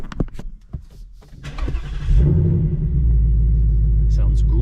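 A 2022 Mustang GT with its sound tube deleted cranks and fires up about halfway through, settling into a loud, steady, deep idle rumble heard close by, after a stretch of quieter handling noises and brief talk.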